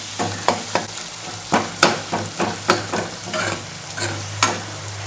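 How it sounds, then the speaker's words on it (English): Dal tadka with turmeric powder stirred in a pot over a flame, with a steady low sizzle and a series of distinct spoon scrapes against the pot at a regular, unhurried pace. "turmeric powder, and then let's stir it well"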